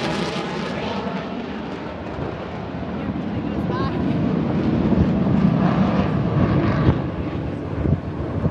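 Super Hornet jet making a high-speed pass at an aircraft carrier air show, a loud, broad roar that swells to a peak midway and then tapers slightly, with wind buffeting the microphone.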